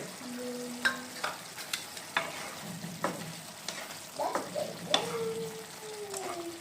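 Paneer frying in a pan for matar paneer, sizzling steadily while a spoon stirs and scrapes, with a string of sharp clinks and knocks against the pan spread through the clip.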